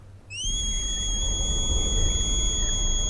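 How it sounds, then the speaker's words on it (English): Superman's breath whistling through blood in a snowy movie trailer scene: a thin, steady high whistle rises in after a brief quiet start and holds unbroken over a low rumble. "Okay, this is breath. That sound is his breath."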